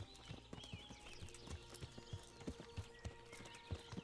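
Rhythmic hoofbeats of a horse clip-clopping at a steady walk in the video game Kingdom Come: Deliverance, fairly faint, with a light ambient background and no talking.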